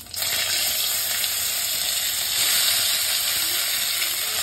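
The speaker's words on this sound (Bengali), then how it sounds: "এই যে কালো জিরে ফোড়ন দিলাম, কাঁচা লঙ্কা ফোড়ন দিলাম" Black cumin seeds and green chilies tempering in hot oil give a loud, steady sizzle that holds for several seconds, crackling continuously with no voices.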